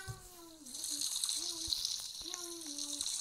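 Steady rush of running water filling a bath in a Roblox video game, with a cat's drawn-out meows breaking in a few times.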